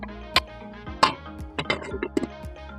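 Faint, scattered clinks and light metallic taps of a pot lid being handled during beef cooking, a few sharp strikes separated by quiet gaps.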